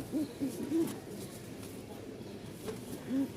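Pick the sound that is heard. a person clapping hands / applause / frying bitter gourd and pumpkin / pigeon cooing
pigeon cooing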